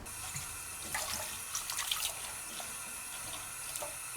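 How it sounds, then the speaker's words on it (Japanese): Sliced potatoes are rinsed in water, giving a soft, steady splash and swish with occasional louder sloshes, close by and fairly quiet. "何度か水を変えながら、水が透明になるまで洗っていきます"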